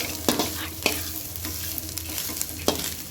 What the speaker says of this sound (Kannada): ಇದನ್ನು ಸಣ್ಣ ಉರಿಯಲ್ಲಿ ಹುರಿದ್ಬಿಟ್ಟು ಆರಕ್ಕಿಡೋಣ.